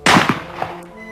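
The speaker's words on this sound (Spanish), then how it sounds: "Yusupov se desespera y decide disparar de nuevo." Gunshot effect in a dramatized historical narration of Prince Yusupov shooting Rasputin: one sharp, loud report with a short rumbling tail and a few fainter knocks after it, with no voices.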